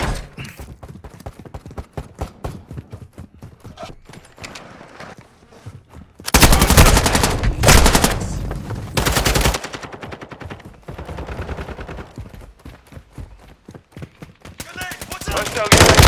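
Gunfire in Call of Duty: Modern Warfare 2: rapid automatic bursts, faint and sparse at first, then loud sustained volleys in several long stretches, with occasional game voice callouts mixed in.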